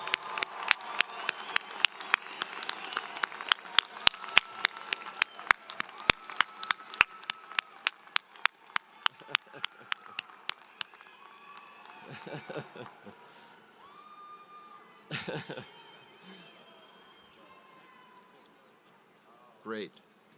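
Applause at the University of Wyoming spring undergraduate commencement ceremony: a large crowd claps steadily at first, then the clapping thins and fades while scattered cheers and voices carry on in a big hall.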